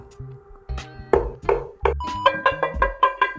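A smoked blueberry upside down cake comes free of a cast iron pan with a run of light metallic pings and taps that quicken toward the end.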